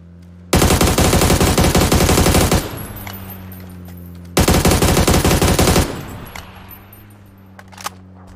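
Automatic gunfire in a battle royale video game comes in two long, loud, rapid bursts separated by a gap. Each burst is followed by a low, fading tail and faint scattered clicks.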